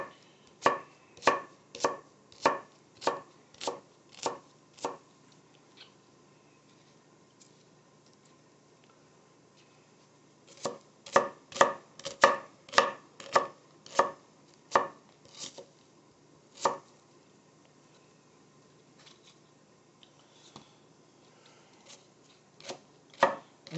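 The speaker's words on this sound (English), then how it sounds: "It's okay if you just keep chopping like this, like, because I've only got this paper plate. Keep chopping it, because the smaller the onion pieces are" A knife chops onion on a paper plate in quick, crisp bursts of rapid taps separated by a long pause, then a few scattered single chops, close and clear with no talk.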